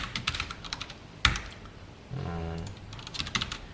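Quick, light keystrokes on a computer keyboard come in uneven bursts, close and fairly quiet. A single sharper key press stands out, with soft background hum underneath.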